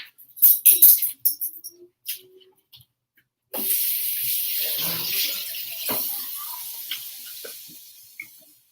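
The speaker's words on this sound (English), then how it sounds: "Let me wash my hands really quick." Tap water runs steadily into a home kitchen sink while hands are washed during cheese-and-butter cooking prep. A few knocks and clatters come first, then a constant rushing hiss holds for about five seconds and slowly eases.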